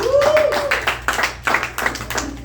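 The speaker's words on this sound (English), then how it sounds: "One more round of applause, ladies and gentlemen." Comedy-show crowd at Heckler's Brewery in Fayetteville, N.C. claps in a round of applause, with a rising whistle at the start and uneven bursts of hand claps close to the recorder.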